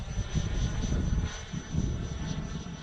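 An XFly Sirius radio control jet roars steadily as it takes off and climbs, a loud sustained whine with a low rumble that rises and eases slightly over a few seconds.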